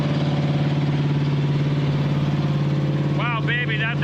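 A 1962 Mercury Monterey V8 runs loud and steady at a fast idle near 2,000 RPM for cam break-in, a close continuous rumble throughout, with a person starting to talk over it at the end.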